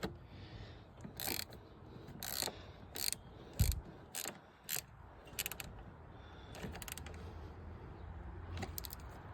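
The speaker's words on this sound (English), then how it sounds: "Well, let's put the battery back on. 10 mil to tighten it back up." Ratchet wrench with a 10 mm socket tightening a car battery terminal bolt during an alternator job on a 1989 Honda Civic, close up. It gives several short bursts of rapid clicking with brief pauses between them, and there is no talk.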